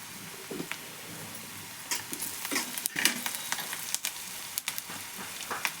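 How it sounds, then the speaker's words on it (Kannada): Egg palya frying in oil in a pan, a constant sizzle with repeated scraping stirring strokes and small spatters, close and moderately loud, with no talk. "ಎಣ್ಣೆ ಒಳಗೆ ಫ್ರೈ ಆಗ್ಯಾವ ನೋಡ್ರಿ."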